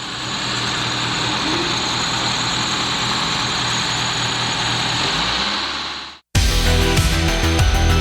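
A rebuilt Ford Scorpio engine idles on its first warm-up with water in the cooling system, a steady loud drone for about six seconds before an abrupt cut to a harsher, choppier burst of engine noise.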